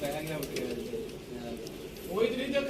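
Teddy pigeons coo nearby in soft, throaty, rolling calls, with a voice talking over them.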